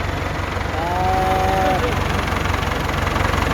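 A Ford 6600 tractor engine idles with a steady low chugging throughout, while a cow moos briefly and clearly partway through.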